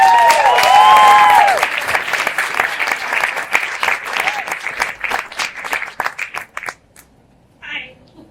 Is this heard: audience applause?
yes